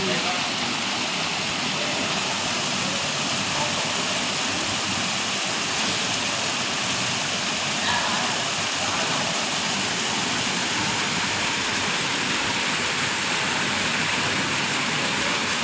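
Steady, loud rush of falling water, a continuous broadband roar with no breaks throughout.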